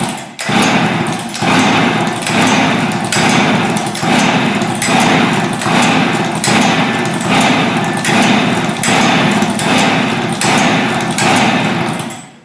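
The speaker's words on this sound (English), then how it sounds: "put your foot on the bottom frame of the chainsaw and pull the handle about 15 times" A chainsaw starter cord is pulled again and again with the spark plug removed, giving a steady, loud train of rasping whirs roughly once a second for the whole stretch, close up and without talk.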